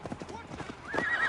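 A horse's hooves clip-clop at a gallop and it whinnies near the end in the Assassin's Creed Valhalla video game, close and brief.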